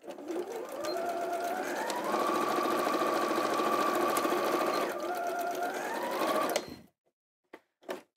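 Sewing machine stitching the lining of a fabric bag, running in a close, continuous hum for about seven seconds, rising slightly in speed midway, then stopping, followed by a few faint clicks.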